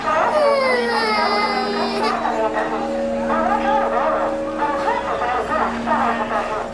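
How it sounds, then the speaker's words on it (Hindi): A young girl cries and wails continuously at Borivali railway station, near and fairly loud, with wavering sobbing cries over a constant low background hum of the station. "उतने में मैंने रोने की आवाज़ सुनी।"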